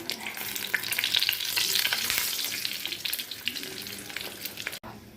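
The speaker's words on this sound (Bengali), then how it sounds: "এবার আমি তেলে এটা ভেজে নেব।" Aloo paratha frying in oil on a pan crackles and sizzles loudly and steadily up close, with faint stirring scrapes, then cuts off abruptly near the end.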